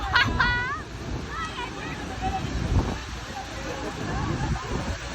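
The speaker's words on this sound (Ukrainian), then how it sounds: "Тут вітер просто неймовірний." Strong wind roars and buffets the microphone continuously while a person talks close by, at Niagara Falls, Canada.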